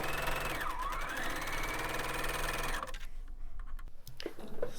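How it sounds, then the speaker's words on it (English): A sewing machine stitches two fabric units of a table runner together, a fast, even mechanical whirring rattle that runs steadily and then stops, leaving soft handling noises. "sewing the 2 units from 7 and 8 together"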